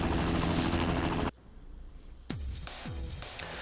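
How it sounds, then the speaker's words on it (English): A helicopter in the video game Spider-Man 2 roars with a loud, steady rotor wash that cuts off abruptly, followed by quieter whooshing swoops and a lower hum. "Alright, so now I have to chase after the helicopter."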